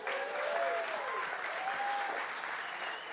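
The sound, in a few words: comedy club audience applause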